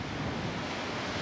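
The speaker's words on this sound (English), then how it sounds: "we are watching the waves against the cliffs" A big swell of ocean waves crashes against coastal cliffs as a continuous loud roar of surf, mixed with wind rumble on the microphone and no speech.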